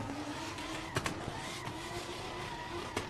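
A drift car at a Red Bull drifting event in Muscat roars in a sustained, distant engine drone with a few sharp pops, heard over a noisy outdoor crowd backdrop.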